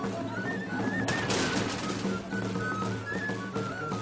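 Festival firework rockets crackle and bang in a dense, continuous volley at a moderate distance, with a brighter burst of explosions near the middle and faint whistling tones drifting through.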